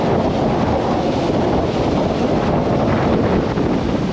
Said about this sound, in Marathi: समुद्र खवळलेला आहे, कारण पावसाचे दिवस आहेत म्हणजे समुद्र खवळणारच.